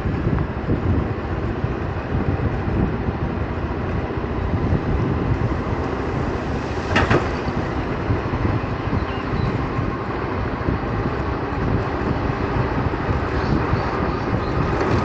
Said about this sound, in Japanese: まあ、さすがに風を切る音はするか。